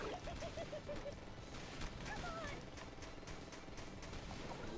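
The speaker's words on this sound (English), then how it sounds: "because I've leveled up my machine gun, it's probably better to use this than try to throw grenades" Rapid gunfire bursts from a machine gun in the side-scrolling action game Hard Corps: Uprising, crackling over game music and effects at a fairly low level.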